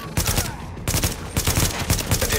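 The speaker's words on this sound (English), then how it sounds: "With all that gunfire drawing the Riker's attention, you're gonna have a nice fat bullseye on your back." Rapid, sustained automatic gunfire in The Division during a Times Square firefight: dense, loud bursts of shots rattle continuously with brief gaps between volleys.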